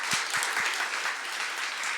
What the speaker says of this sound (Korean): 정말 우리 주님께 영광 박수 올려드릴까요?